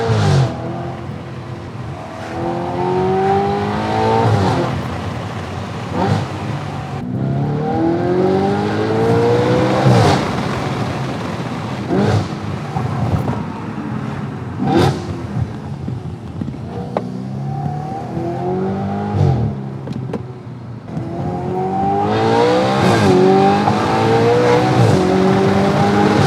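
An Audi RS5 V8 exhaust fitted with an ECS Tuning X-pipe roars and revs through repeated accelerations and gear changes on back roads, loud and close, with brief lifts between pulls.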